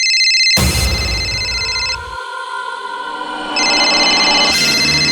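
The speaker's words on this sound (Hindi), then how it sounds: "तेरे जिगरी दोस्त करण का ही फोन होगा, उठा ले" A telephone rings with a loud electronic tone that repeats in bursts, close and clear, with the ring dipping briefly before resuming.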